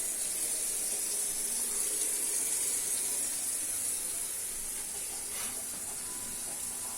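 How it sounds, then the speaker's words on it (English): Hot water tap running on a home heating system with a Worcester Bosch Greenstar 4000 boiler, a steady even hiss of flowing water holding throughout at a moderate level, with no talk. "Hot water tap."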